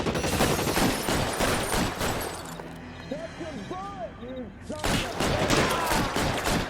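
A burst of gunfire in the video game L.A. Noire rings out amid loud game action, with people talking over the shots.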